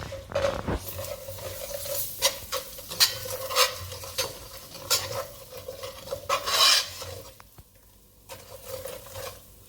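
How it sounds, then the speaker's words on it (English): Trinidad-style curry fries in oil in a pot over medium heat, sizzling softly under repeated close scrapes and clinks of a spoon stirring against the metal, with brief pauses and no talking. "I'm going to put the oil in, and then I'm going to fry my curry."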